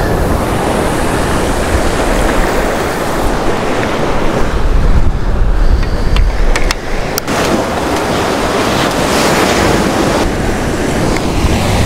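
Ocean waves break on a beach during fishing, making a constant loud surf wash mixed with heavy wind buffeting on the microphone, a slight surge near the middle and no talking.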